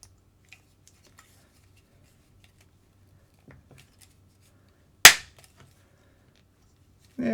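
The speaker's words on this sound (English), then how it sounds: "if you just get it down and just get a quick squeeze, it's enough to get it on" A cheap drift tire is squeezed onto its wheel with a tire tool, producing one sharp, loud snap amid near silence, with a few faint handling clicks before it and another knock at the very end.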